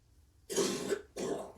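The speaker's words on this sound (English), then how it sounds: "It is absolutely not me coughing." Two harsh, throaty coughs, close and fairly loud, come one after the other with a short pause between, over a quiet background.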